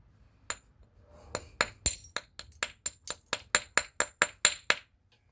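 Crisp, glassy clinks of flint knapping as local stone is worked from a spall toward a knife biface, about a dozen sharp strikes in a fairly even rhythm, close and clear against a quiet background.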